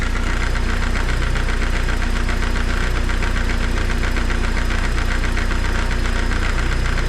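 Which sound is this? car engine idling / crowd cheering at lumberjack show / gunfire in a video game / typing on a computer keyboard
car engine idling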